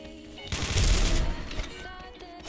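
Gunfire in the video game XSHOT, a dense burst of shots that swells loud in the middle and then thins out, with a faint voice underneath.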